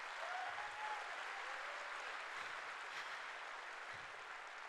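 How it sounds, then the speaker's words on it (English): An evening gathering's audience claps in a big round, a continuous wash of many hands at an even, moderate level, heard from a slight distance and not broken by talk. "Can you please give them a big round of applause as well?"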